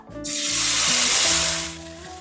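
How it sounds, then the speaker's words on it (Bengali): Kharkol leaf paste hits hot mustard oil with a loud burst of sizzling spray that swells, holds for about a second, then fades into a softer hiss, with faint tonal hum underneath and no talking. "তেলটা গরম হয়ে গেছে এবার আমি এর মধ্যে দিয়ে দেবো পাতার পেস্টটা"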